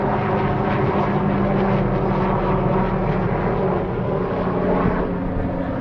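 A mosquito-control helicopter passes overhead, its steady engine and rotor drone filling the air at a constant loud level throughout, with no talk.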